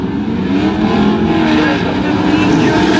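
Pro racing trucks roar around an oval track during a heat race, a dense, continuous engine drone at steady loudness with a race announcer talking over it throughout.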